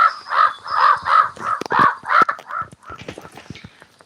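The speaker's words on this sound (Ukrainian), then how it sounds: "ворона нам розказує, що нам потрібно йти, типу, овочі садити" A crow caws about eight times in a steady rhythm, loud and close, followed by quieter rustling and faint clicks as the calls stop.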